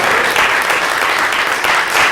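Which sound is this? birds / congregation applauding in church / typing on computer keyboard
congregation applauding in church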